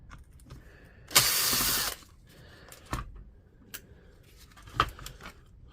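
Screws being taken out of a DEWALT DCN660 cordless nailer to free its driver, heard as close ratcheting clicks and small tool clatter with a brief louder burst of mechanical noise.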